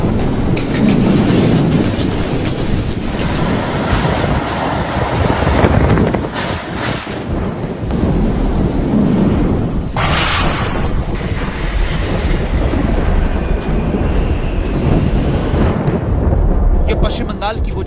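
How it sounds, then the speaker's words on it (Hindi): A loud, continuous roar of Super Cyclone Amphan's storm wind in West Bengal buffets the microphone, with deep rumbling gusts that swell and ease for the whole stretch. "ये शोर है उम्पुन तूफान का, जिसने आज पश्चिम बंगाल और ओडिशा को हिला दिया।"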